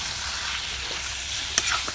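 Broiler chicken fries in a pan at a village home kitchen, a steady close sizzle filling the clip with a couple of brief stirring clatters near the end.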